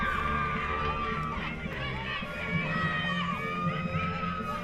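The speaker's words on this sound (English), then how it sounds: "that'll draw some applause here from the IMG Academy crowd" A crowd at IMG Academy watching a women's under-17 football qualifier between Guyana and Turks and Caicos reacts with loud, continuous cheering, shouts and whoops as an attacking move unfolds. There is no distinct clapping.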